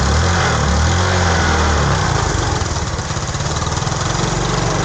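A Rusi motorcycle engine idles steadily after being submerged in a flood, with a rough, sputtering, puffing note from a leaking exhaust, loud and close, running continuously throughout.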